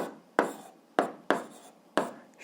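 Handwriting during an eighth-grade algebra lesson: four distinct bursts of pen strokes scratching across paper, each starting sharply and trailing off, close and clear with no talk.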